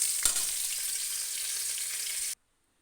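Pointed gourds (potol) frying in hot oil: a loud, even sizzle that runs on and then cuts off abruptly.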